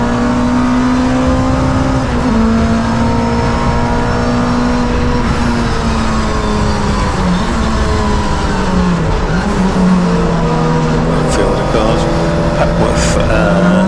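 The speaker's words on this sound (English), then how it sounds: "And Andrew Wimble, the local man, goes through in the raised wheels Honda EP3 Superleggera" A raised-wheel Honda EP3 race car passes on the Donington circuit during a CSCC tin top race, its engine note loud and close, with tyre squeal and a steady wash of other cars, under a commentator's voice.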